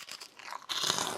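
Freeze-dried apple candy crunches loudly right at the mouth, a quiet first bite followed by a denser burst of crisp, crackling chewing.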